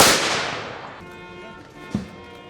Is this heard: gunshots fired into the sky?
yes